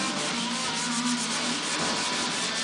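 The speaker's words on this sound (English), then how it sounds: "when you're sanding on fiberglass parts, not like steel parts" Continuous hand sanding on a fiberglass front-end part for a 1955 Chevy, a dense, steady abrasive rubbing close to the microphone with no pauses and no talk.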